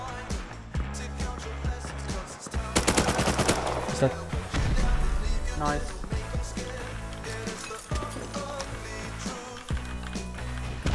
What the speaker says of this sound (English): Is that an AK?